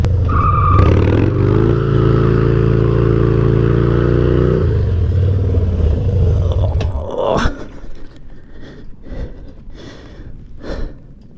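A Harley Dyna motorcycle drifting, its engine roaring loud and steady under hard throttle with tire skid noise, then cutting off abruptly, leaving scattered faint clicks and knocks.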